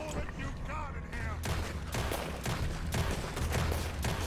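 Gunshots from Red Dead Redemption 2 crack in quick succession, dense and loud over a rumbling game soundscape, with a voice briefly audible in the mix.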